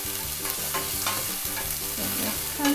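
Chicken and potato pieces browning in a frying pan, a continuous close sizzle with rhythmic scraping as the pieces are stirred and turned.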